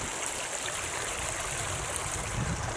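A river flowing near a sloping forest, a steady broadband rush of running water that stays even and close throughout, with no voices.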